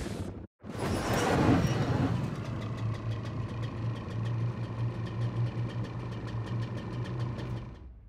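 A snowmobile engine idles in a video game, a steady low mechanical putter with a regular ticking beat, following a brief rev and a short burst of noise at the start, close and continuous with no talk.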